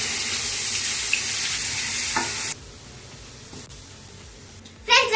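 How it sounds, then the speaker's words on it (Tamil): Curry leaves and garlic frying in hot oil for a spicy egg dish, a loud steady sizzle that drops abruptly partway through and then flares up again near the end. "எண்ணெய் காய்ஞ்சிச்சு ஃப்ரெண்ட்ஸ். கருவேப்பிலை போட்டுக்கலாம் ஃப்ரெண்ட்ஸ். பூண்டு போட்டுக்கலாம்."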